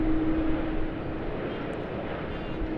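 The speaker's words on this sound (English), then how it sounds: "A350-1000 heading back off to Hong Kong." A Cathay Pacific Airbus A350-1000 jet departs for Hong Kong from Sydney Airport, giving a steady, broad engine roar with a brief tonal whine at the start, heard from a distance with no voices.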